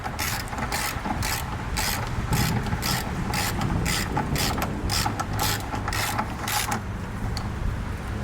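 A ratchet snugs down radiator bolts on a Honda Accord, giving a fast repeated clicking in regular short bursts, close and fairly loud over a steady background hum, with no talking.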